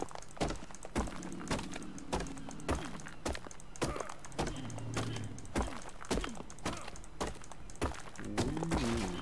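Repeated pickaxe or tool strikes on a rock in ARK: Survival Evolved, a series of sharp dull thunks at an irregular rhythm, ending with the rock breaking apart, with other game sounds underneath.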